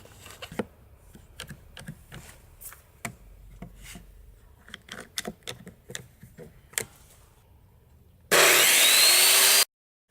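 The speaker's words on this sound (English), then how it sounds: "I'm going to clamp these things down to my work table and cut them both at the same time." A saw cuts through two pieces clamped together on a work table in a series of sharp rasping strokes and clatters, followed by a loud, steady burst of broadband noise near the end.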